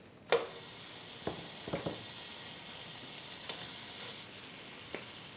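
Bing burgers in a skillet give a sharp knock as they go in, then a soft, steady sizzle broken by a few light taps and scrapes, quiet and close.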